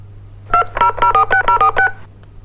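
A telephone number is dialed on a touch-tone phone, about eight or nine crisp, evenly spaced keypad tones sounding close and clear after a brief quiet start.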